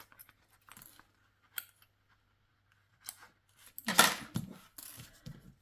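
Scissors snip thread on a small fabric notebook cover, a few quiet, close cuts separated by pauses, ending in a slightly louder cluster of rustling snips.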